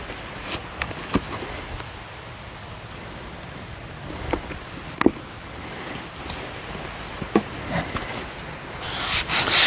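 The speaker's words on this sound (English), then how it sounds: "Make sure you scrub in the cracks." A brush scrubs along the cracks of a concrete sidewalk outdoors, steady rough scratching with a few sharper strokes, growing louder near the end.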